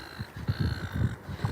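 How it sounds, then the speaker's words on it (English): A seagull on a sunrise seaside walk gives a quick series of about six harsh, throaty calls in a steady pulsing rhythm, fairly close and fairly faint. "Oh, the seagull's not happy."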